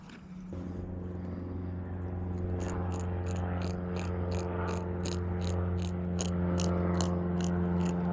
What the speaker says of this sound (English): The noise you're hearing is him chewing on his inside teeth, thus making the grunt noise.